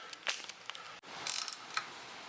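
A ratchet tightens the nuts on a replacement radiator fan motor for a G35/350Z, with close, quick clicking bursts separated by short pauses.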